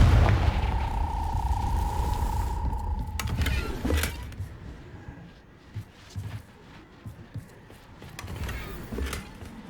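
The Confringo fire spell from Hogwarts Legacy bursts with a whooshing roar and a couple of sharp booms, then fades into quieter scattered thuds and rumbles.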